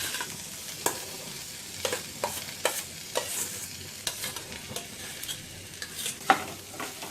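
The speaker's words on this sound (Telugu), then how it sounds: "ఇది అంతా బాగా కలిసేటట్టు కలుపుకోవాలి." Mashed potato masala with coriander powder being stirred in a frying pan for aloo bread bonda, soft sizzling under sharp intermittent spatula scrapes and taps, close and fairly quiet with no talk.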